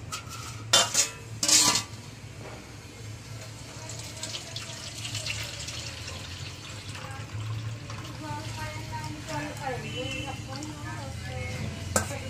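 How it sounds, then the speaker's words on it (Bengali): Boiled tamarind leaves are strained through a large sieve with a few sharp metallic clanks, then splashing, trickling water and light scraping of utensils. Someone talks intermittently nearby. "এবার একটা বড় ছাঁকনির মাধ্যমে এই পাতাটা আমি পুরোপুরি ছেঁকে ফেলে দেবো।"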